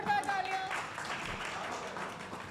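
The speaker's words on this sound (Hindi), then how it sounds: "जोरदार तालियां" Audience applause at an awards show, a dense broadband wash of clapping that starts with a brief voice or tone and carries steadily through the clip.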